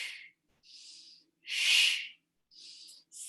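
Short, sharp breathy exhalations in a pulsing rhythm during a Pilates exercise, five bursts of hissing air separated by brief silences, close and fairly quiet.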